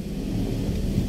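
Rain drums on a cargo vehicle during a convoy drive delivering boxes to a warehouse, a dense low steady rumble of rainfall and road noise, close and unbroken.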